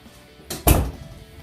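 A residential unit door being tested during a home inspection: a quick rattle followed by a solid close-up thud of the door shutting and latching, alone with no talk.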